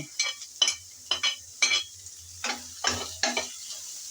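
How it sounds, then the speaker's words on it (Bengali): Chopped shrimp and green chili are stirred and fried for a teasel gourd chop filling. About eight distinct spatula strokes scrape through a steady soft sizzle at an uneven rhythm, close and moderately loud, with no voices. "সবগুলো দিয়ে ভালো করে নেড়ে চেড়ে আগে একটু ভেজে নিচ্ছি"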